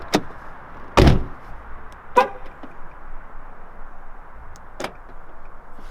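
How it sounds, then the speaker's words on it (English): Door of a Nissan 370Z drift build being opened, with a few sharp clicks and thuds of the latch and handle, one louder clunk, spaced over a quiet background. "Open the door."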